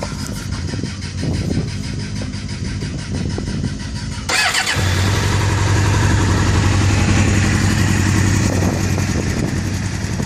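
A 1998 Suzuki GSX-R750 motorcycle with a carbon muffler: a low rumble, then the engine fires abruptly and settles into a loud, steady, close idle that continues to the end.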